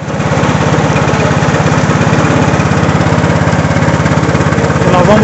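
A rabeta outboard engine drives a small riverboat near the Maratininga community in Moju, Pará. It runs loud and close with a steady, rapid low chugging pulse throughout.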